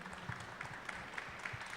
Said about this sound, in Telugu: చప్పట్లు కొట్టాలిగా